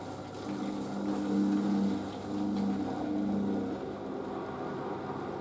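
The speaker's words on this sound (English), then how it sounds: "Got a very nice pump for this machine." A washing machine drain pump hums steadily at close range during a rinse cycle, a low droning whir that swells and eases slightly over several seconds.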